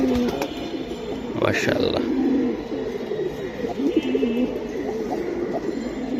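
Several caged pigeons cooing in low repeated throaty murmurs, with someone speaking briefly over them and a short sharper noise partway through.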